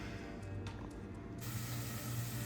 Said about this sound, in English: I sprayed olive oil spray